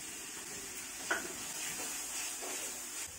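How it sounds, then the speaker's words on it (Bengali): Onion, garlic and ginger paste fries in hot oil with a quiet, steady sizzle, broken by a few soft scrapes and clinks of stirring in the pan. "পেঁয়াজ বাটা দিয়ে দিলাম, পেঁয়াজটাকে একটু ভেজে নেছি"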